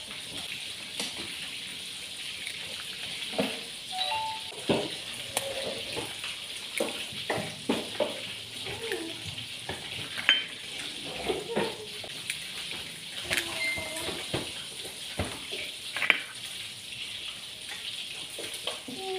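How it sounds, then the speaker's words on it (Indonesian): Oil sizzling in a pan as instant noodles mixed with egg fry into an omelette, a steady crackling hiss dotted with small pops and scrapes, moderately quiet and close. "Selesai mengiris bumbu-bumbu, sekarang mari kita dadar"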